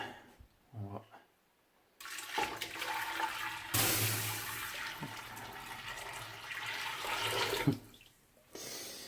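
Water gushes steadily into a vessel for home beer brewing, a loud continuous rush lasting several seconds after a brief low clunk, then cutting off near the end.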